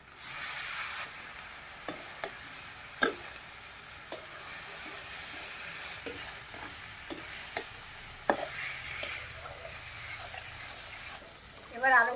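Cauliflower fries in a pan with turmeric and salt, a steady sizzle broken by scattered sharp scrapes and knocks as it is stirred.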